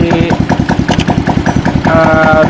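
Carbureted motorcycle engine, converted from fuel injection, idling with no exhaust fitted during assembly, giving a loud, rapid, steady put-put chug with sharp unmuffled pulses that continue throughout.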